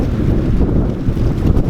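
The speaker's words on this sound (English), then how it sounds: "You hear that wind?" Wind gusting through the woods on a cold day, a steady loud rumbling roar buffeting the microphone without pause, with no voices.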